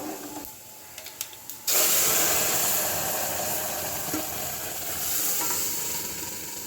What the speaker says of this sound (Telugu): నేను పప్పు వేసేస్తున్నాను